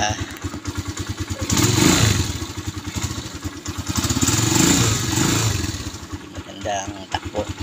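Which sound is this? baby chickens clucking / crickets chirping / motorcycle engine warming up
motorcycle engine warming up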